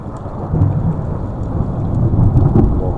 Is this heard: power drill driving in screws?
no